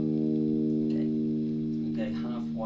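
An electric guitar played through a Boss FDR-1 Deluxe Reverb pedal with the reverb switched on holds sustained, ringing notes, and a few more notes are struck with a lush, washing tail, loud and close.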